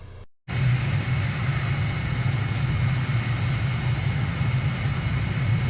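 Steady, loud aircraft engine drone on the runway at Honiara's Henderson Field in a flight simulator, a low continuous roar with a faint high whine, cutting out briefly at the start before resuming evenly.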